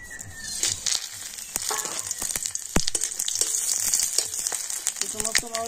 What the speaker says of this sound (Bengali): আর এবার আমি ওই তেলের মধ্যে দিয়ে দেব, নিয়েছি 2টো শুকনো লঙ্কা, 2টো তেজপাতা, গোটা গরম মশলা, আর নিয়েছি গোটা জিরে।